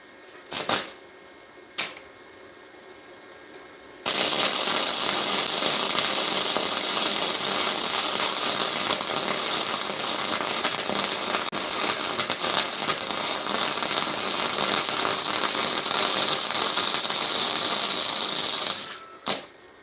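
A MIG wire welder runs a seam in a garage after a couple of short starting bursts, then a loud, continuous crackling hiss for about fifteen seconds before stopping.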